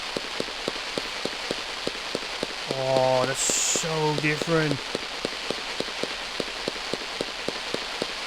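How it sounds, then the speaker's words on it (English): Crackling-trail fireworks cake in the video game Fireworks Mania, a rapid steady patter of sharp pops with rising whistling trails in the middle and a person speaking briefly over it. "it's crackling trails or tills"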